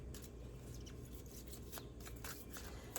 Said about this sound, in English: So let's go ahead and pull your cards here and see.